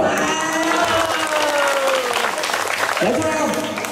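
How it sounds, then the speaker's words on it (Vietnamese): Applause at a children's summer event in An Long, a crowd clapping and cheering steadily while an amplified voice talks over it, fairly loud and continuous. "Vỗ tay."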